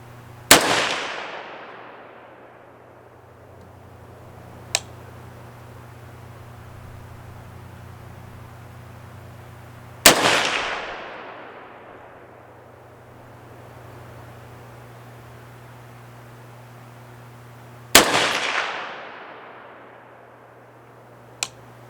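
Three sharp rifle shots from a Palmetto State Armory PA-10 Gen 3 with a Ballistic Advantage barrel, spaced several seconds apart, each a loud close crack followed by a long fading echo across an outdoor range, with a faint distant pop after two of them.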